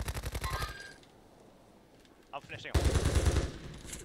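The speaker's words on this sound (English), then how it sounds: "Getting shot at by his buddies." Rapid automatic gunfire in the Warzone 3 video game, two loud bursts of rattling shots separated by a quieter gap, with a player talking over the action.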